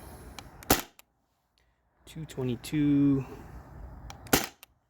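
Shots from a modified Sabre 68 air gun running on HPA, sharp loud cracks spaced apart with a hissing, whining burst between them, and a person speaking briefly.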